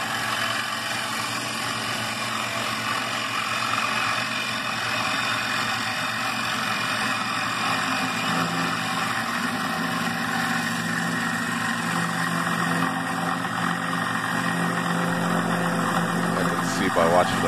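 A wood lathe turns a square Sipo mahogany bowl, giving off a steady, continuous droning hum with a broad cutting rasp that holds at an even level for the whole stretch.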